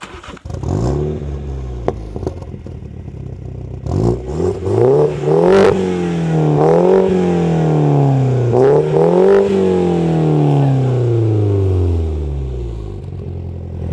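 A Mini Cooper JCW engine revs repeatedly at a race track, rising and falling in pitch with several loud bursts of acceleration, close and prominent with no talking.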